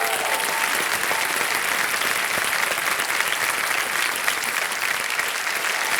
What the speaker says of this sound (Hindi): तालियां बज जाए इनके।